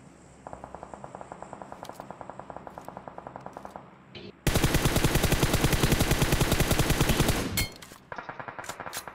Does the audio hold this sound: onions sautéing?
no